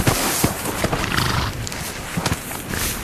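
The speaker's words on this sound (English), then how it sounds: "a lone Grevy's zebra" A Grevy's zebra stallion in dry, scrubby land gives a loud, close, braying whinny with rough repeated bursts. It is heard alone with no talk.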